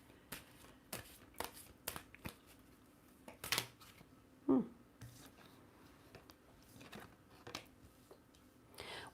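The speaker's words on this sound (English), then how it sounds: "I'll use the energy oracle cards." Energy oracle cards shuffled by hand, scattered soft slaps and brushing clicks at close range, quiet and irregular with faint room noise between them.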